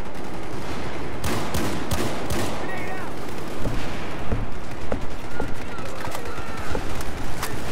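Shotgun blasts in Battlefield 4 ring out as a burst of sharp, loud reports early on, followed by scattered gunfire and battle noise, with a player talking over the action.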